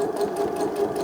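A domestic sewing machine runs a short reverse stitch while sewing a small Easter bag, giving a brief, steady motor whir with a rapid needle rhythm, close and fairly loud.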